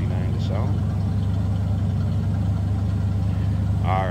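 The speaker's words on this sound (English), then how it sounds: "No crazy exhaust, sounds like you'd expect a luxury sedan from 69 to sell." A 1969 Cadillac Fleetwood Series 60 sedan engine idles smoothly and steadily with a low, even rumble throughout, with brief voices speaking over it.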